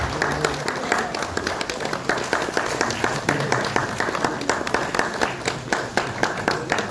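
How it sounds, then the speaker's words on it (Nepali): An audience applauds at a book launch for the story collection "Katha Kathmandu Ko", released by former president Ram Baran Yadav. Dense, steady clapping fills the hall throughout, with some voices mixed in underneath. "सम्पूर्णले ताली बजाएर स्वागत गरिदिनु हुनुको लागि, सम्मान गरिदिनु हुनुको लागि हार्दिक अनुरोध गर्दछु।"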